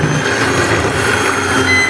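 A blender mixes chiffon cake batter in a home cooking-class kitchen, giving a loud, steady motor whir that runs unbroken for the whole stretch with no voices over it.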